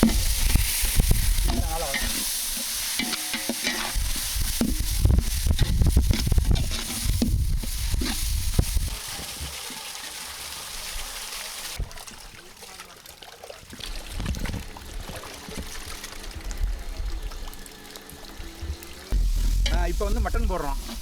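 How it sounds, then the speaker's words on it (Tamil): Tomatoes tipped into sizzling ginger garlic paste for a large pot of Chettinadu mutton biryani, loud close frying hiss with stirring scrapes and splashes, voices talking over it. "தக்காளி போடுறோம்."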